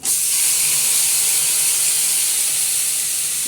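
Onions hitting a hot pan for a potato fry, a loud, steady, bright sizzling hiss that holds nearly constant throughout, close up and unaccompanied by talk.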